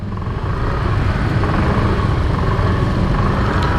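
Dense road traffic creeping through a slow jam, heard while riding an Alva One electric motorcycle: a constant loud rumble of engines and tyres with wind noise, steady and unbroken.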